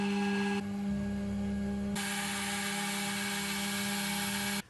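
A Carvera Air CNC machine engraving a copper PCB layer gives a steady, loud mechanical whine with fixed tonal hum, rising to a brighter, harsher high-pitched buzz partway through, then cutting off at the end.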